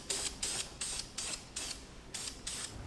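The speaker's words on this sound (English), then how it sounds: "I forgot how good this stuff sprays on." Black engine paint sprayed from an aerosol can onto parts for an old Ford's V8 swap, seven short hissing bursts in a steady rhythm with brief gaps between them, close and moderately loud, no talking.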